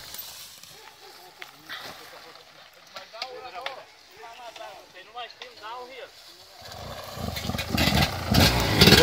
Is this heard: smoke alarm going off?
no